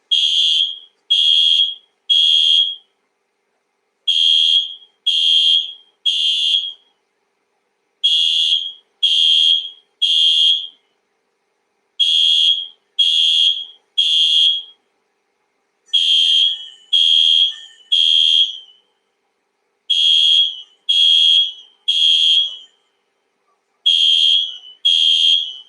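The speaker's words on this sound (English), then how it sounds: "There's an alarm going out." A new home's alarm goes off nearby in repeated groups of three sharp, high electronic beeps with short pauses between groups, continuing steadily with no voices.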